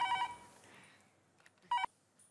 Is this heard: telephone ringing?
yes